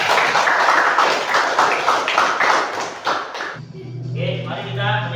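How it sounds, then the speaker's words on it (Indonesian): Schoolchildren clap together in a classroom, a steady burst of close, rhythmic claps lasting several seconds before it stops and voices take over. "tepuk tangan untuk kalian"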